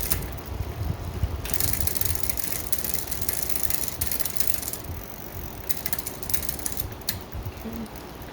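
A free mountain bike's chain shifting through its gears, with steady mechanical ratcheting and clicking throughout and bursts of brighter rattling as the gears change, close and fairly loud with no talk.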